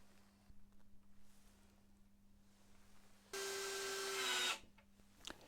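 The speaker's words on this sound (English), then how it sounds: "drill pilot holes and apply glue and screw them firmly in place" A power drill drilling pilot holes in wood for an arcade pedestal base whirs for about a second, a sharp steady whine that rises slightly before stopping, with quiet room noise around it.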